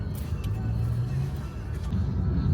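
Congested street traffic in the Philippines two days before a fiesta, with cars and motorcycles: a steady, close engine rumble and hum of idling and creeping vehicles, continuous throughout.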